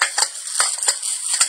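A metal IKEA dish rack is hung on a rail, giving a series of close, bright metallic clinks and scrapes in an irregular rhythm.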